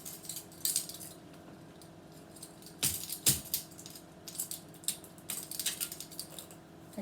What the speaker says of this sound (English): of course you gotta pop the lid